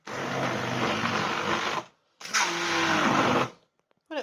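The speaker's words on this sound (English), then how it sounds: "And now I'm going to whiz it up, and hopefully it won't go everywhere." A blender whizzes a falafel mixture of potatoes in two loud, close bursts, the first about two seconds long and the second shorter, with a brief gap between them and a quick tail-off after the second.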